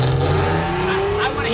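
The engine of a modified Datsun 521 pickup truck revs loud and close in a rising, continuous roar that lasts only a moment.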